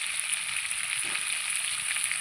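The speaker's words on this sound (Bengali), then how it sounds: "সবজিগুলো আমি লাল লাল করে ভেজে নেব।" Mixed vegetables for a tilapia fish curry frying in hot oil in a pan, a dense steady sizzle close up with a brief stir partway through.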